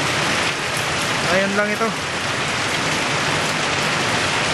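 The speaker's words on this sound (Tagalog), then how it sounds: "Grabe ang lakas ng ulan. Buhos oh." A heavy downpour pounds down in a steady, loud hiss of rain, and someone briefly speaks over it.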